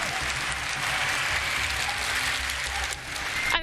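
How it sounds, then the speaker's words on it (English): An esports arena crowd at a Rainbow Six Siege major in Berlin cheers and applauds, a dense continuous roar of claps and shouts that stays loud throughout, with a short dip near the end. "And the crowd cheering for Elevate, finally back in this game."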